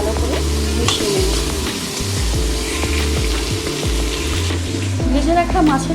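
Chopped green chillies being fried and stirred into moong dal in a pan, a steady sizzle with scraping stirs running throughout, loud and close.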